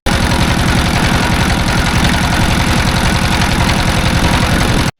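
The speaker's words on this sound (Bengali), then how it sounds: "আমাদের ট্রলার চলছে সোমেশ্বর নদীর বুক চিরে ওই পাড়ের দিকে" A trawler boat engine chugs steadily and loudly throughout on the Someshwari river, a continuous low throbbing rhythm with no voices.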